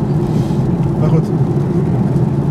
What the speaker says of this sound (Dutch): het hardste geluid dat je nu hoort is het geluid van de banden